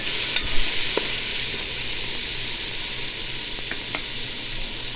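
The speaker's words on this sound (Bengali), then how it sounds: "আদা রসুনটা পেঁয়াজের সাথে ভাজবো" Ginger-garlic paste frying with onions in a pan for chicken biryani: a steady, loud sizzle runs throughout, with a few faint scraping stirs and no talking.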